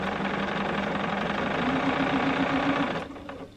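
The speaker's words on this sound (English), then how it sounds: "So first I'm just going to sew a few centimeters." A Bernina sewing machine stitching fabric strips for a quilt runs in a steady, close, continuous whir for about three seconds, then slows and stops.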